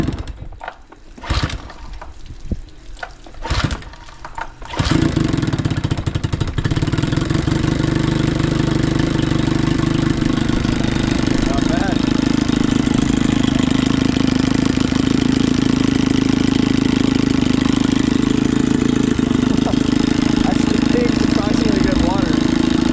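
A Johnson Evinrude outboard motor, an older one being brought back to life, takes a few sharp recoil pulls and sputters before catching, then settles into a loud, steady idle held for the rest of the clip.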